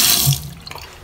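Water runs from a bathroom sink tap in a hotel room, a steady broadband hiss that tapers off after a fraction of a second, leaving faint drips and splashes close by.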